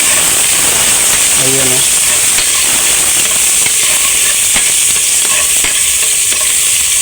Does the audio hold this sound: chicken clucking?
no